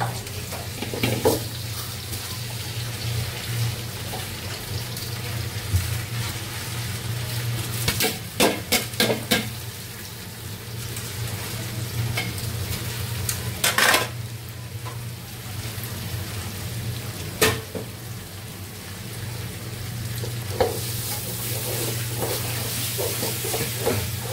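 Rice fries with already-fried onions in a pot for biryani, a steady loud sizzle broken by sharp scraping stirs that come in small clusters, with no voices.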